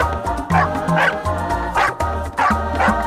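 A dog gives a quick series of about five close, sharp yipping barks spread evenly across a few seconds, each short and high-pitched, with no talking.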